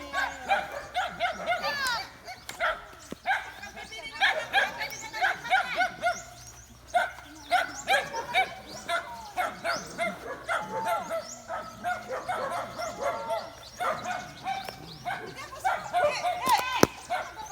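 Dogs bark repeatedly in a busy, overlapping chorus, yips and whimpers mixed in, with people talking now and then beneath the racket.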